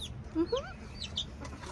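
A blue Bantam Cochin hen gives a few soft clucks and chirpy calls close by, short and irregular over quiet background.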